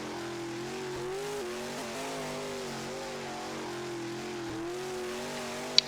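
A muscle car engine in the video game Roblox drones steadily with rising and falling revs as it drives, a continuous moderate hum with tire noise, alone without talk.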